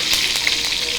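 Garlic and curry leaves fry in hot oil for a Tamil-style Andhra chicken curry, giving a brief, close, steady sizzle and crackle.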